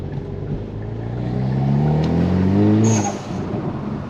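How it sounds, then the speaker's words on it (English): Exhaust note of a 2020 Hyundai Veloster N accelerating on the road, a close, steady engine drone whose pitch climbs smoothly as the car gains speed, ending with a brief hissy whoosh. "The exhaust sounds nice,"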